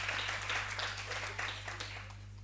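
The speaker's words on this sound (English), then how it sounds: "Round of applause" Audience at a university occupational therapy research day gives a round of applause, moderately loud clapping that gradually thins out, with a steady low electrical hum underneath.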